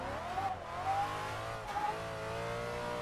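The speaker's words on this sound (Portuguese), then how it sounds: "Vocês já estão vendo que o ronco do carro, ele já é até diferente, né, mano?" A turbocharged Nissan 350Z in a drifting video game roars at high revs, its engine note rising and falling with throttle blips and a brief tire squeal, loud and close with no talking.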